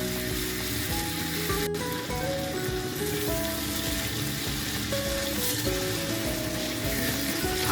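Spice paste with salt sizzles steadily in hot oil for a Bengali pumpkin and prawn curry, with a dense, continuous crackle close by and light stirring throughout.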